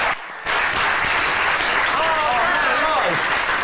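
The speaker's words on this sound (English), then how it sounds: "Let's have a round of applause for Gene Simmons." Studio audience applause for Gene Simmons on a television show, loud dense clapping that swells after a brief gap and carries on steadily, with a voice calling out over it.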